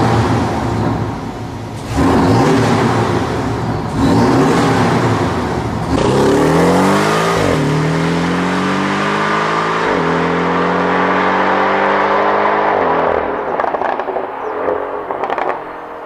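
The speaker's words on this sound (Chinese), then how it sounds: "我放一段素材，大家可以来感受一下4缸的718声浪" A Porsche 718's turbocharged 2.0-litre four-cylinder engine revving close by, with repeated rising and falling rev sweeps and a gruff, buzzy tone that winds up and down several times before easing off.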